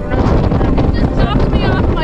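Strong wind roars and buffets the microphone on a snowy winter mountain summit in the White Mountains (Mt. Chocorua), loud, continuous gusting with heavy low rumble throughout.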